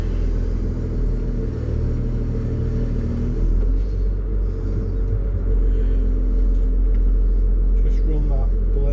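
A 360 excavator running steadily with its blade skimming just above the ground to level it, a constant loud low diesel rumble and drone with faint scraping underneath, close to the machine.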